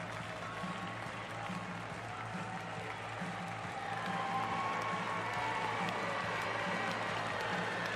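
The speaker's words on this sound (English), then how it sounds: "And the Australian players just coming onto court to take the ovation of the crowd." A packed arena crowd at the London 2012 Paralympic Games applauds the Australian 5-a-side football players, with steady, sustained clapping that swells slightly toward the end under a faint murmur of voices.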